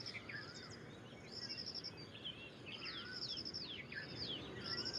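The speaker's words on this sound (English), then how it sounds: "You can hear red-vented bulbul." A red-vented bulbul calls in a busy dawn chorus, its short bright phrases repeating among many overlapping chirps and whistles over a constant background hiss.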